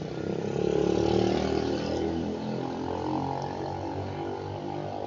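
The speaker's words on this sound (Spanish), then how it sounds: "me disculpan por el sonido del fondo, una moto" A motorcycle passes in the background, a steady rumbling engine drone that swells slightly early on and then holds at a moderate, distant level throughout.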